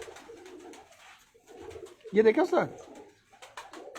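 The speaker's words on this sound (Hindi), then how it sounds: "मेरे पास एक और काला मोती प्योर कबूतर।" Cooing from a pure black Moti pigeon, a low throaty burst rising near the middle, heard close up between stretches of someone talking in Hindi/Urdu.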